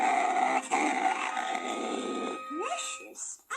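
A dog growls at strangers, a sustained, throaty rumbling snarl that ends in a rising whine and a few short yips.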